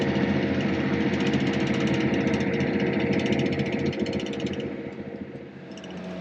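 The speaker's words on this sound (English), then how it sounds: "Usually go around the field 3 times with this 60-foot drill." A steady, loud engine drone with rattling machinery runs continuously, easing slightly toward the end, from a tractor pulling a 60-foot seed drill across a field in northern Minnesota.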